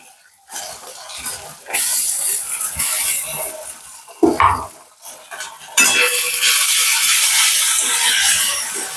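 Onion, garlic, ginger and tomato paste stirred in a pan, with repeated scraping and clanking of a utensil against metal over a background sizzle that swells louder in the latter half.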